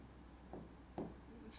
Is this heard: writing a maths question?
yes